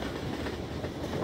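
A video game train rumbles along in a dense, steady roar of wheels and carriage noise, loud and continuous for a brief moment with no voices.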